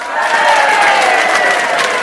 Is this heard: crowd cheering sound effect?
yes